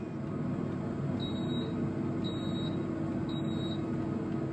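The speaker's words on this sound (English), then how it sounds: "So when the food is ready, you can hear this beep." Cusimax air fryer oven signaling finished food with three short, high electronic beeps, evenly spaced about a second apart, over a constant low fan hum.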